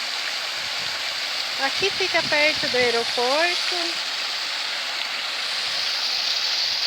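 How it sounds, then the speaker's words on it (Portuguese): A waterfall at the Thermas Cataratas water park pours in a steady, broadband rush that fills the whole scene, while someone talks briefly over it. "Olha que cachoeira gostosa para relaxar ali."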